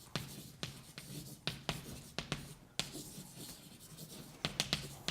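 Chalk or a marker taps and scrapes across a board during a lecture on homotopical group theory, with a steady run of sharp close strokes and short scratches and no voice heard.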